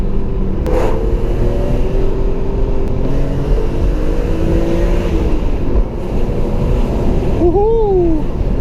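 BMW E36 M3 accelerating hard from inside the cabin, a loud engine drone climbing in pitch through several rising sweeps as gears change, with road and wind roar beneath.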